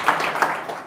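Brief burst of audience applause at a spiritual lecture, a dense patter of many hands clapping at moderate distance, lasting under a second with no voices over it.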